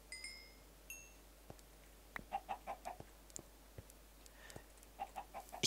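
Minecraft chickens clucking in the video game, a series of short, fairly quiet clucks that come in small clusters and sit over faint background tones and occasional clicks.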